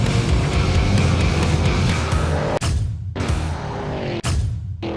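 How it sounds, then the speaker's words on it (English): A supercharged Dodge Durango Hellcat SUV roars loudly at close range, its engine note dropping sharply twice as it downshifts, each time with a brief gap before the roar resumes. "And the supercharger sounds, even on the downshift."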